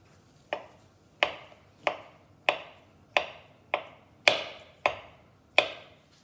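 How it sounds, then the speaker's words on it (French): A knife chops potatoes into cubes or slices on a board with about nine crisp, evenly spaced cuts. The strokes are close and clear over a quiet background, with no talking. "Je vais couper les pommes de terre en cubes ou en rondelles, comme vous voulez"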